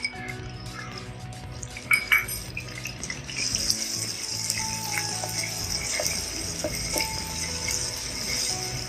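Whole garam masala spices fry in a pot, giving a soft, continuous sizzle with a few light metallic clinks and rattles near the start.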